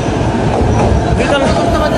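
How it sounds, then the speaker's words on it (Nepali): A double-decker rapid commuter train runs loud and close, with a steady rumbling roll and faint clatter of the carriages throughout, and muffled voices in the background. "यो दुई तला ट्रेन रहेछ नि साथीभाइहरू, यो ऱ्यापिड हो"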